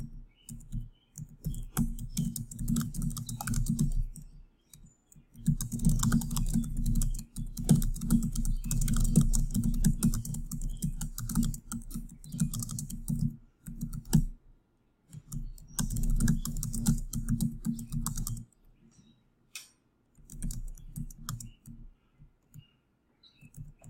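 Rapid typing on a computer keyboard comes in several bursts of close, clattering keystrokes separated by short pauses, with an occasional mouse click.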